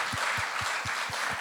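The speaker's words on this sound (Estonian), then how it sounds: "Aplausi palun" At a high school Christmas gala, an audience applauds with hissing clapping over a steady beat of dull low thumps, about four per second, as if people were clapping or stamping in unison.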